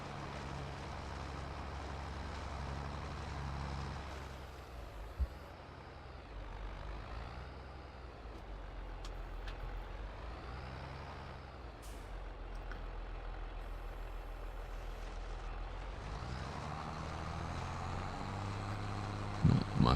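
Tractor engine in Farming Simulator 22, a steady low diesel drone running throughout with shifting revs and a few brief clicks near the end.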